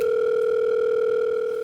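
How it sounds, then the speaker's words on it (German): A loud, steady telephone dial tone, one continuous unbroken hum heard alone and close for under two seconds. "Ich telefoniere."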